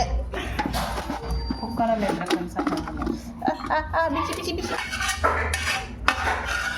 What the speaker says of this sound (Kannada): ಪಾತ್ರೆಗೆ ಹಾಕ್ಕೊಂಡು ಮಿಕ್ಸ್ ಮಾಡಿದ್ರೆ ಚೆನ್ನಾಗಿ ಮಿಕ್ಸ್ ಆಗುತ್ತೆ